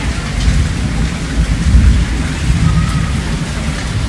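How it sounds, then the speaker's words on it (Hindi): Heavy monsoon rain pours steadily with deep rolling thunder rumbling underneath, loud and continuous throughout. "बादल गरज रहे हैं, गड़गड़ गड़गड़ गड़गड़ हो रही है बहुत ज़्यादा।"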